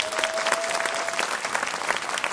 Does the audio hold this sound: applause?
yes